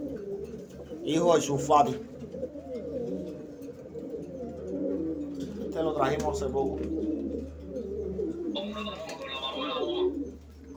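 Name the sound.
pigeons cooing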